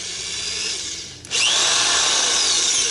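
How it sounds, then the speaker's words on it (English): A high-pitched power drill whines steadily, dips briefly, then returns louder and sustained, driving a sheet metal nibbler attachment with a harsh mechanical buzz close to the microphone. "So basically what you do is you attach it into any drill"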